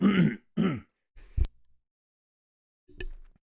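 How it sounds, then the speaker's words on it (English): A person clears their throat with a couple of rough, gravelly bursts, then makes a short grunt and a soft cough, with pauses between them. "It seems like every time I get behind a mic lately, I have to cough."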